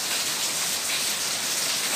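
Steady rain pours down in a dense, even hiss, close and constant with no voices over it.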